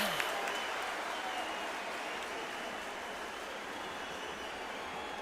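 Arena crowd noise in the Undisputed boxing video game: a constant roar and applause-like hiss from a large audience, steady and moderately loud after a brief opening blip.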